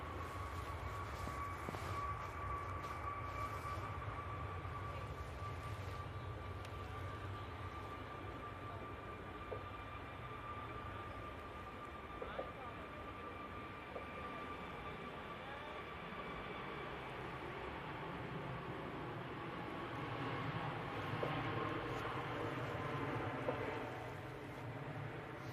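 A Ryanair airliner takes off from Manchester Airport, heard as a faint, distant, steady jet roar with a thin whining tone held throughout, with no voices.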